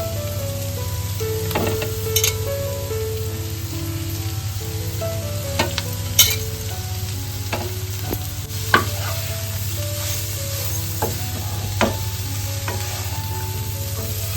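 Bharangi greens frying with onions, chillies and turmeric in a pan, a continuous loud sizzle with repeated scraping and clinking from stirring, no talking.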